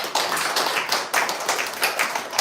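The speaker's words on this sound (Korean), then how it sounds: "박수 한번 크게 쳐주세요." A church congregation claps loudly together during a Sunday morning worship service, a dense, steady burst of applause with a few sharper swells, close and filling the room, no voices over it.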